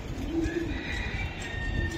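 A racing pigeon coos softly in a club loft, low murmuring calls repeating against faint background chatter and ambient noise.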